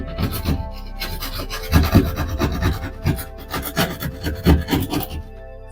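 Drywall being cut by hand to enlarge a round ceiling speaker hole for a Micca M-8C in-ceiling speaker, a close, loud run of rasping back-and-forth strokes in an uneven rhythm.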